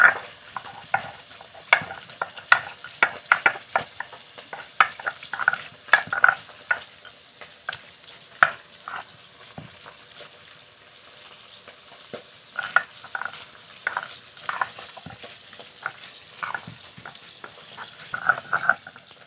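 Fish sizzles and spits as it fries in oil in a pan for a fish curry, with steady crackling and frequent scraping clinks of a spatula stirring and turning the pieces, close and fairly loud, no talk.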